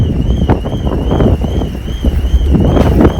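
Wind buffets the microphone outdoors on a boat trip in British Columbia, a steady, loud rush and rumble with gusty swells and a faint whine running through it.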